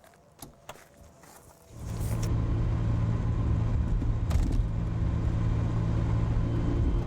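A Ferrari 328 with a 3.2 litre V8 starts up after a few clicks and settles into a loud, steady, deep idle rumble close by, with no talk.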